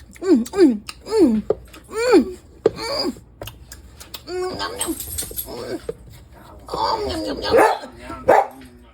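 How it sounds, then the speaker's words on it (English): A dog barks and whines in a string of short, rising yelps, close by, with a person talking between the sounds. "If he think I'm eating right now, he would start barking at me."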